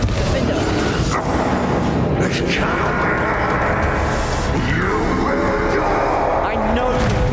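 Confringo blasting spell in Hogwarts Legacy during a dragon fight, loud booming blasts and crackling impacts over continuous battle noise.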